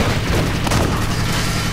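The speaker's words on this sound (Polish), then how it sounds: "O, karabin maszynowy, poszczelam sobie." Machine gun firing in the video game Army Men Sarge's War, a dense burst of booming shots blending into a continuous roar over the short stretch, loud and close.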